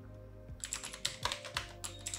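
Rapid typing on a computer keyboard, a steady run of close, crisp key clicks with no voice over it.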